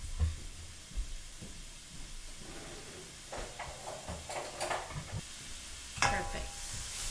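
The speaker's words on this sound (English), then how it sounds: "Now we're just going to saute it nicely and let it cook" Onions and garlic sauté in a pan, a quiet steady sizzle broken by occasional clinks and stirring scrapes of a utensil, faint and close.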